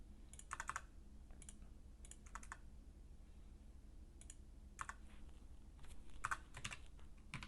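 Faint, sparse computer keyboard keystrokes come in small bursts and single taps with pauses between, as asterisks are erased from text; quiet and close with no talk.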